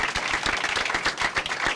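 Dense, sustained applause from a crowd, steady clapping throughout with no voices standing out.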